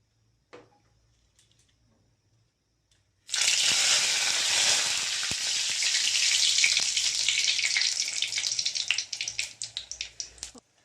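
Bay leaves, dried red chillies and whole garam masala hit hot oil in a pan with a sudden loud hiss, then settle into a steady, crackling sizzle that thins to scattered pops near the end, after a few faint clinks.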